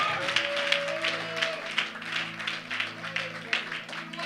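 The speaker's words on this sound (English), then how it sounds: "Clap them hands and give him the glory" A church congregation claps in a steady rhythm during a lively service, the repeated hand claps sounding moderately close under sustained organ or keyboard chords and voices.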